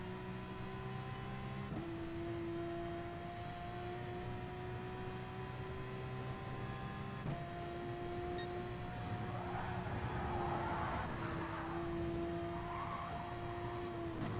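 A race car in a PS4 racing game drones along under steady engine tone that steps through gear changes, with tire scrubbing as it takes turns, continuous and fairly loud.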